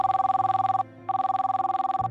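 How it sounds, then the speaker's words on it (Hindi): Steady telephone ring tone placed as a call in a Hindi audio drama, two bursts of rapid trilling ringing separated by a short pause, clear and close with no talk over it. "देर रात तक देव घर नहीं आया तो इशिका ने उसे कॉल किया"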